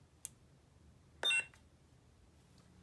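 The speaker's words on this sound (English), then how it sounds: "you can push and hold till the first beep and release." A Starfall Sabers Corran Horn V2 lightsaber switching to silent mode: a short, clear electronic beep with a faint click just before it, in an otherwise quiet room.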